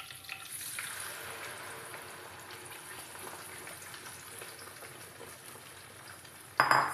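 Ground papaya fries in hot ghee for papaya halwa, a soft steady sizzle at moderate distance lasting throughout, with a brief louder clatter at the very end.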